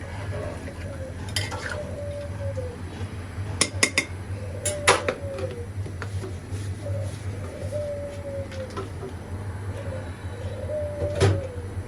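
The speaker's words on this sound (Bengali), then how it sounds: "এবার প্রেসার কুকারের ঢাকনিটা আমি ঢেকে দিলাম" A metal pressure cooker lid goes on over beef cooking with cardamom, cinnamon, cloves, garlic and onion, with scattered metallic clanks and knocks near the microphone and birds cooing softly in the background.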